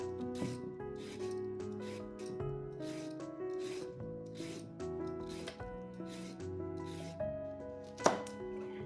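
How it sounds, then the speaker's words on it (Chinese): A knife chopping a peeled carrot into roll-cut chunks on a board, a steady series of fairly quiet, regular cuts with one sharper knock near the end. "再把胡萝卜切成滚刀块，不用太大。"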